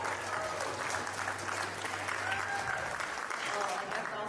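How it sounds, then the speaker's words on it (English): Wedding reception guests applaud the couple at Harika and Teja's reception, a dense, even round of clapping with a low hum and faint chatter underneath. "give them one big round of applause"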